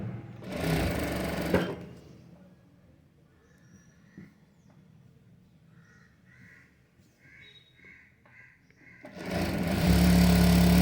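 Loud, fast whirring bursts from a sewing machine stitching a princess-back blouse open and close the passage, with a quiet, sparse stretch between them marked by faint distant caws.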